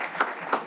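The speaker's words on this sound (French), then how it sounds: "Je pense qu'on peut encore les applaudir tous" Conference audience applauding the panelists at an event on sport and professional integration, a brief burst of clapping with two slightly louder swells, fairly near.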